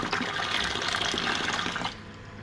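An automated garden irrigation system sprays water in a steady broadband hiss that holds for about two seconds, then cuts down to a quieter wash of water.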